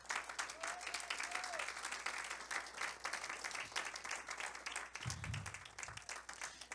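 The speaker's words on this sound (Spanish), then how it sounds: "Dele un aplauso a Cristo, hermano." A church congregation applauds, a steady wash of many hands clapping that continues throughout, with a brief low thump partway through.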